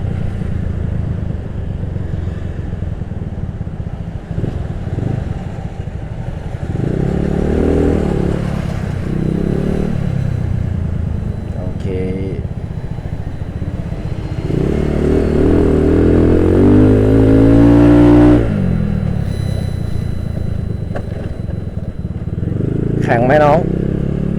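A customized Yamaha Nouvo scooter engine hums while being ridden and rises in a louder rev partway through, with someone talking over it.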